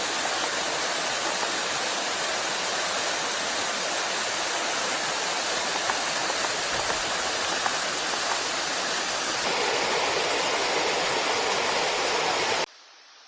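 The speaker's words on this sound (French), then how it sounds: "Là, on a une jolie cascade. Elle est petite," A small waterfall in Cambodia rushes steadily, a dense, even splashing roar of falling water close by that stops abruptly at the end.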